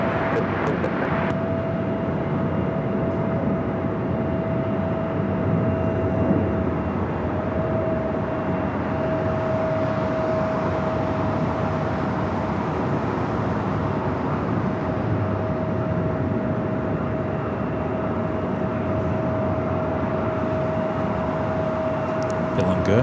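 Jet engine roar from a Boeing 747 on a one-mile final into runway 25 left at Los Angeles International Airport at night, a steady loud drone with a sustained whine held throughout.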